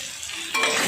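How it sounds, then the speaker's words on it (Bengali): Turmeric and chili powder being stirred into a fish curry with eggplant in a hot pan, a brief close sizzle and scraping that swells louder halfway through. "ভালো করে আবার নাড়াচাড়া করে নিচ্ছি"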